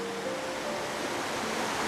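Baskins Creek near Gatlinburg flows in a continuous broadband rush of water, steady and fairly close with no pauses.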